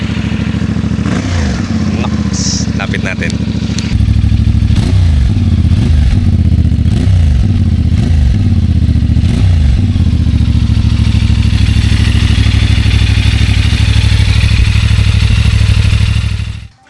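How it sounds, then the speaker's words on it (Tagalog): A CFMoto 450MT adventure motorcycle engine revs up repeatedly in throaty exhaust bursts, then settles into a loud steady idle; a brief spoken line comes early. "parinig ko sa inyo yung kanyang exhaust sound"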